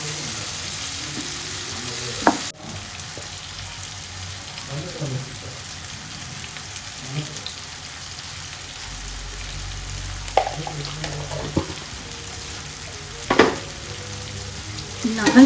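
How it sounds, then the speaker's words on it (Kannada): Tomato chitranna mixture frying in a pan, a steady close sizzle with intermittent scraping stirs and a few sharper clacks of the spatula. "ಚೆನ್ನಾಗಿ ಫ್ರೈ ಆಗ್ತಾ ಇದೆ"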